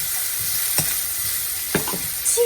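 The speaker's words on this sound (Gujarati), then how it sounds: "જો ભાઈ પૌવા બનાવવાના ચાલુ થઈ ગયા છે" Poha frying in oil in a pan gives a steady, close sizzle, broken by a few soft scraping stirs.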